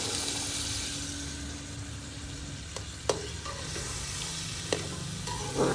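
Peas, cabbage and other vegetables fry for a vegetable biryani in a pan, a steady close sizzle broken by a few sharp scrapes and clacks of a spoon stirring them.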